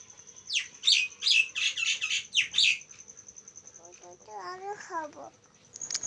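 Pet parrots calling to be fed at midday, a run of loud, harsh chirps and squawks close by, followed by lower warbling calls, over a steady high whine and faint background voices.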